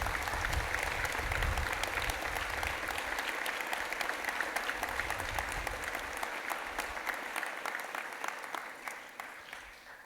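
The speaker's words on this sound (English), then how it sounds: "Let's give them a big round of applause" Sustained applause from a school audience at an archbishop's launch event, loud and dense at first, then gradually thinning and fading toward the end.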